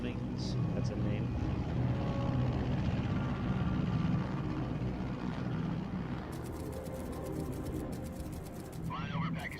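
An aircraft engine drones during a flight over Pakistan at 30,000 feet in the video game Metal Gear Solid 3: Snake Eater. A loud, steady, broadband engine roar holds throughout, with faint higher sounds surfacing near the end.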